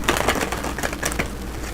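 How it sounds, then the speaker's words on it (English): A deck of tarot cards being shuffled by hand, with quick papery riffles and crisp slapping snaps close to the microphone and no talking. "Let me shuffle these good here."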